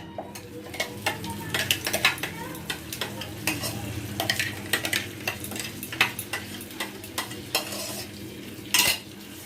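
Raw mango pieces fry with asafoetida in a pan, a steady soft sizzle under repeated scraping and clinking stirring strokes, close and fairly quiet, with no talking.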